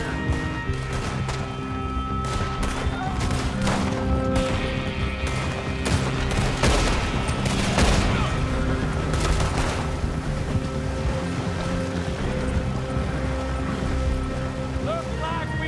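Gunfire in Red Dead Redemption 2 during a river chase: bursts of repeated rifle and pistol shots crack over the rush of water and a boat, with shouted voices mixed in throughout.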